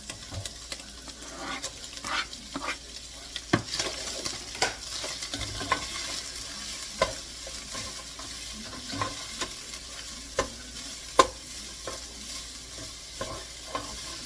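Onion frying in olive oil in a pan, a close, steady sizzle broken by irregular scraping and clinking as it is stirred.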